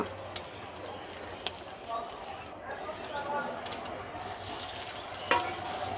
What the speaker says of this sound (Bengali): এবারে ভালো করে ডিমটাকে ভেজে নেব যেমন ডিমের অমলেট হয়